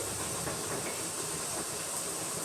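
Whole spices such as cinnamon, cloves, bay leaf, pepper, shahjeera and fennel sizzling in hot oil in a pan for a Rayalaseema recipe, a steady close-up hiss throughout.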